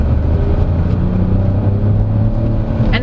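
The three-cylinder engine of a 2023 MG ZS T crossover runs with a steady, loud low rumble and drone, heard continuously from close by with no talking.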